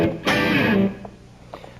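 Fender Stratocaster on the lead pickup playing low growling tones, a single loud distorted note sustaining about half a second, then fading with faint picking after.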